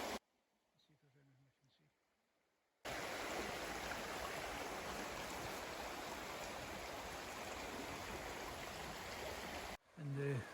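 A river flowing past a riverbank camp, a loud steady rushing wash of water that runs unbroken for several seconds, with faint quiet talk before it and a brief voice at the end.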